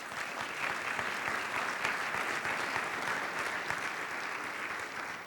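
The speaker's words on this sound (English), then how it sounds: "let's give them a round of applause for joining us tonight" An audience at a volunteer partners celebration applauds Kennedy Electric Car students, a steady, even wash of many hands clapping that holds at moderate level throughout without pause.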